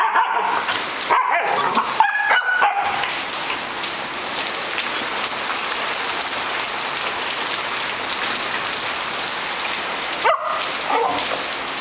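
Samoyed dogs barking and yipping in several short bursts early on and once more later, heard over steady heavy rain drumming on a surface in Thailand.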